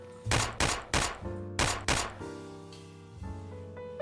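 A .45 ACP USP Match pistol in a VR video game fires five sharp shots in quick succession, each with a punchy thump and ringing mechanical tail, followed by softer clicks of handling near the end.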